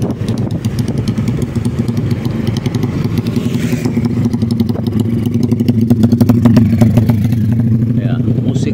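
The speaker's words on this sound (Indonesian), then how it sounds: "menikmati geber-geber motornya" A motorcycle engine revs and rumbles continuously nearby on a smooth rural road past ripening rice fields, a loud steady throb that swells slightly toward the end with some rattling clatter.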